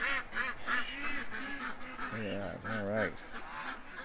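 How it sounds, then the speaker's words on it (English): Ducks quack and honk in a noisy cluster close by, calls overlapping in quick bursts, with someone speaking briefly among them. "You guys are going to see the ducks going in."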